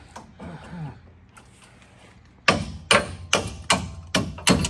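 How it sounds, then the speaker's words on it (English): After a quiet stretch with faint voices, six sharp metallic hammer blows ring out in a steady rhythm, close and loud, driving a bolt while fitting a levelling kit on a 2017 GMC Sierra 1500 4x4. "Now hammer the bolt up."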